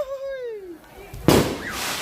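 At funeral preparations in Tondon Langi', a voice calls out in a long, falling wail, then a single firecracker bursts loud and close, followed by a lingering crackling hiss.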